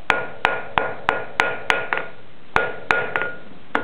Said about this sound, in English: Notice the hammer taps there? That straightens the back side of the hook.